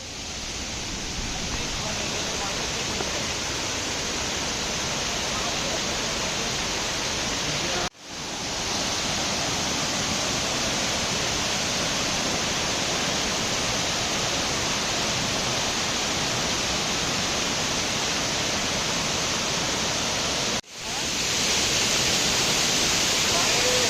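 Water running down from a hill through a cement-lined canal toward fields makes a loud, steady, close rushing hiss that hardly changes, broken only by two brief dropouts.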